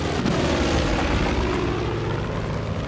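A plane in the video game Far Cry 5 drones loudly with a steady propeller-engine roar throughout, close and continuous, with no talk over it.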